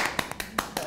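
A handful of sharp, separate claps on an Indonesian talk show with two filmmakers, uneven in rhythm and close by, with faint voices between them.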